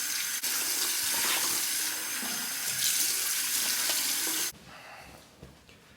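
Strong water from a bathroom tap gushes steadily into a sink while the face is warmed before a shave with a single-edge razor, then cuts off abruptly near the end, leaving quiet drips.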